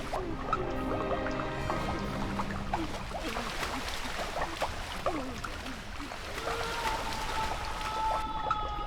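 Water runs and drips in a bathroom, a dense wet splashing with scattered drip sounds and layered tonal music beneath, continuous and fairly loud throughout.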